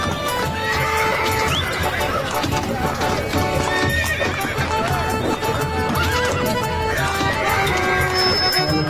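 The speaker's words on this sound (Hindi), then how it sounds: "हमें एक तांगा चलता हुआ दिखता है, जिसमें छोटू शर्मा सो रहा है।" A horse-drawn tanga cart approaches as part of an animated cartoon. A steady clip-clop of hooves runs throughout, with repeated whinnies and neighs over a dense, loud backdrop.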